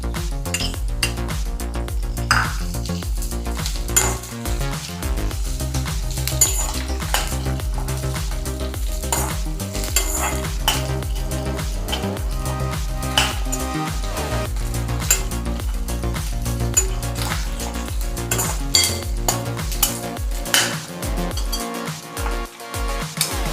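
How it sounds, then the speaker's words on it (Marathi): Capsicum goes into a pan of onions frying for sorghum pulao, making a steady close sizzle broken by repeated clinks and scrapes of a spoon stirring against the pan, with no talking. "आता आपण शिमला मिरची टाकूया."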